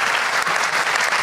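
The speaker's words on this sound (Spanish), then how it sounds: "denle un fuerte aplauso a Luis Toro, realmente," Loud, steady applause from a church audience fills the whole stretch, a dense wash of clapping with no voices on top.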